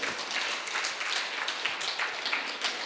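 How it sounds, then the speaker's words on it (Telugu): An audience claps together for a married couple at an inauguration ceremony for a meditation village and pyramid project, a steady broadband patter of many hands sustained throughout. "ఆ దంపతులిద్దరికీ మనం గట్టిగా చప్పట్లు కొడదాం."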